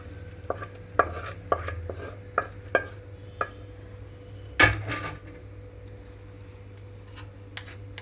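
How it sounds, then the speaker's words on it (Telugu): Tempering is mixed into cooked rice for raw mango pulihora, a series of close, sharp taps and clicks of a spoon against the vessel, then a louder knock and a quieter stretch over a steady low hum. "ఇక్కడైతే మొత్తం తాలింపు అంతా కూడా రైస్లో కలిపేస్తున్నానండి"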